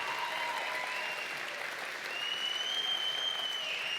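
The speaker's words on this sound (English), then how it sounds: "A round of applause for Chris Paul" A farming awards evening audience applauds a young farmer who placed second, steady clapping from a moderate crowd lasting a few seconds, with a faint tonal sound drifting through.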